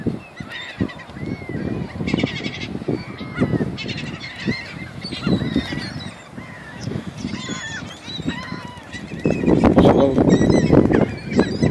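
Seagulls feeding at the end of the day on cornflakes, honking and squawking calls overlapping continuously, loud and close, with no talk.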